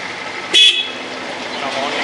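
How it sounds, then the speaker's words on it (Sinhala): A single short, bright honk from the horn of a 2001 Honda CD 125T Benly five-gear motorcycle, sounded close and loud over a steady background hiss. "මේ විදිහට තියෙනවා බයික් එකේත් එක්කම හෝන් එක"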